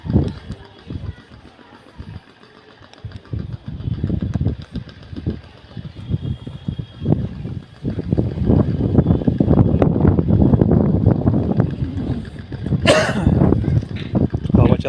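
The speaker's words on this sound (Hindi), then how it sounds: "हवा चल रही है काफ़ी तेज।" Strong wind blowing across a home rooftop, gusting buffets and rumbling microphone noise rising and falling throughout, with a person talking over it.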